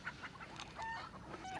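Faint chickens clucking in short, scattered calls over a quiet outdoor background.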